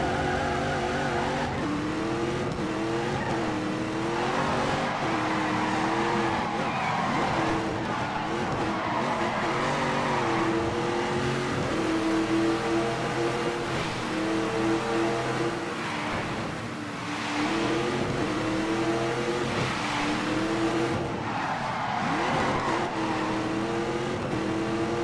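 Race cars at full throttle roar loudly and continuously, with engines shifting pitch and tires squealing and skidding throughout.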